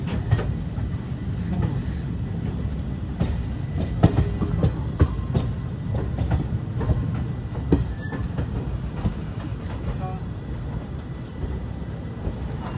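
A late-running special passenger train in India rolls steadily along the rails, with a continuous rumble and faint rhythmic clatter from the wheels lasting throughout.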